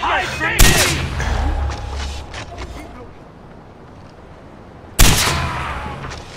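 Sniper rifle fire in the video game Far Cry 4, two sharp, loud shots several seconds apart, each with a booming low tail, with quieter game ambience in between.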